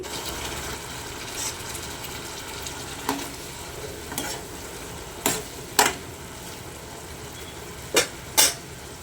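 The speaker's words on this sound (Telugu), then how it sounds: "బాగా వేయించుకోవాలండి ఒక ఐదు నిమిషాలు బాగా వేయించుకోవాలండి" Goat kidney and liver frying in a pan, a constant low sizzle punctuated by several sharp scraping stirs of a spoon against the metal, with no talking.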